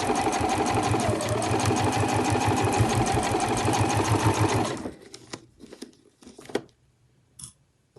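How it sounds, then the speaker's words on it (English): A sewing machine runs steadily for about five seconds, stitching zip tape through all layers of a cushion cover, then stops, leaving a few soft handling clicks and rustles of fabric. "And then you just want to continue sewing down to the end. And you're sewing through all layers."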